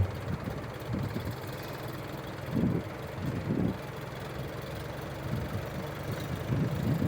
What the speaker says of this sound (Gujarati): થઈ ગયું ટ્રેક્ટર ચાલુ